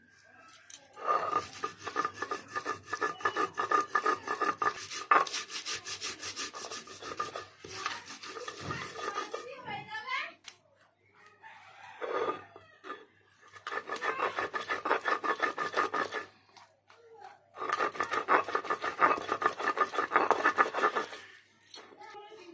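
Black mustard seeds, green chili and poppy seeds are ground together by hand, with repeated rasping, rubbing strokes in long bursts separated by short pauses. Someone speaks softly at times.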